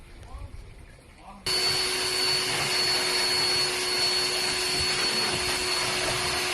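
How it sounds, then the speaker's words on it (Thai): A mechanic vacuuming dust from the carpet of a Mitsubishi Pajero Sport near the air-conditioning unit. The vacuum cleaner switches on abruptly after a moment of talk, then runs loud and steady with a constant whine. "ช่างก็จัดการดูดฝุ่น นะฮะที่ เกาะพรมนะฮะ"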